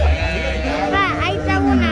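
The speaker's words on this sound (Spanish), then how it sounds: "Como ves aquí, bastantes cabras" Goats bleating at an open-air livestock market in El Tránsito, San Miguel, with wavering cries close by over a steady background murmur of people talking.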